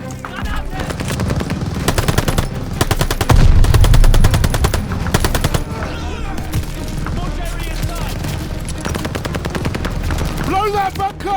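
Sustained machine gun bursts in the shooter Call of Duty: Vanguard, loud rapid rattling fire with heavier booms mid-burst, then scattered shots and battlefield noise.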